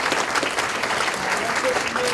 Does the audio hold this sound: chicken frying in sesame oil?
no